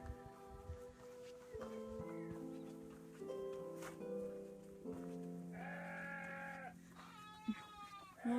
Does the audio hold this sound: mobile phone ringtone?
no